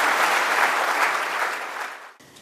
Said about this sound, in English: May I ask you to join in a round of applause for our 4 laureates.